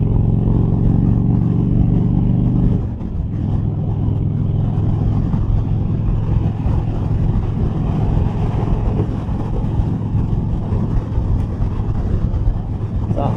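Steady, loud wind roar buffeting a helmet while riding a motorcycle at highway speed, with engine drone underneath and a brief shift in pitch early on, continuous throughout with no talk.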